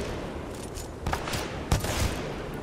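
Rapid bursts of gunfire in Titanfall 2, a dense crackling fusillade with a couple of louder close shots standing out, no talking.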